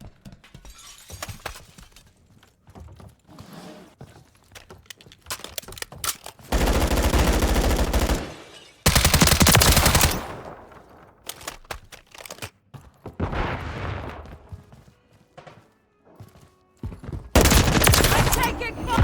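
Machine gun fire in a first-person shooter video game arrives in loud, dense, sustained bursts separated by short gaps, with game voice callouts and other battle effects in between.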